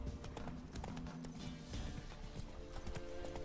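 Hooves of Roach, a horse in The Witcher video game, clip-clopping in a steady gallop-like rhythm, fairly quiet and alone with no talk over them.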